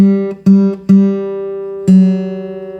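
Guitar strings plucked together several times, each chord ringing and decaying, with a slightly sour, beating quality from the third string being tuned flat.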